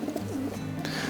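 A racing pigeon coos close by in its loft, a low soft rolling call that repeats through the moment without talking.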